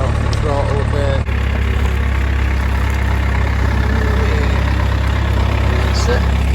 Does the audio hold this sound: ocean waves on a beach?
no